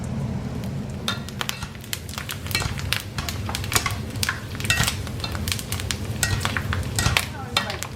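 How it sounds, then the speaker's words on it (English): Food dropped into very hot pork fat fries with a loud, continuous sizzle, crackling bursts and utensil scrapes and clinks as it is stirred, close and steady throughout. "you keep frying until it's become like golden color, kind of like crispy looking"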